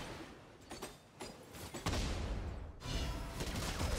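Dense, loud bursts of gunfire from the mobile battle game Honor of Kings, rattling almost nonstop and growing heavier toward the end, with no voices over it.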